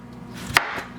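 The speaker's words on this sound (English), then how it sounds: "I'm just going to take and cut it this way using the tip of my knife and just cut all the way through" A knife tip slices through a potato for Hasselback potatoes, one sharp, short cut that lands with a crisp tap on the board in a quiet kitchen.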